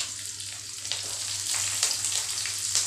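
Red chillies, green chillies and chopped onion frying in a pan give a steady, close sizzle with occasional crackles and stirring scrapes, heard alone without talk.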